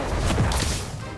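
An Expulso spell is cast in Harry Potter: Magic Awakened, a short loud blast with a thudding impact and a burst of broadband crash that quickly tails off.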